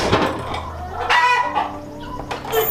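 Backyard homestead chickens clucking in a busy overlapping chorus close by, with a rooster crowing partway through.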